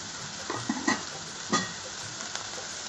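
Chopped onion sautés in oil with a pinch of salt, giving a soft, steady sizzle broken by a few scraping stirs of a spatula against the pan, with no talking.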